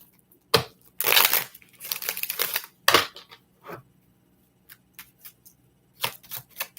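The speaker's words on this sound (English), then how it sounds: "Shuffle it out." Tarot cards being shuffled by hand, a series of close, crisp riffling and papery crinkling bursts separated by short pauses, with no talking.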